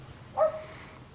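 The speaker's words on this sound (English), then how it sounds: "being barked at" A single short dog bark, fairly faint and at a distance, heard alone against quiet background.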